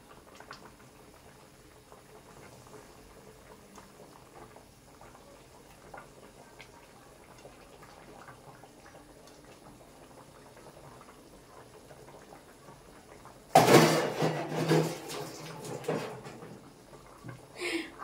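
Fish curry simmers at a full boil in a pot, a quiet, continuous low bubbling for most of the stretch. Near the end a sudden louder burst of splashing and sizzling takes over.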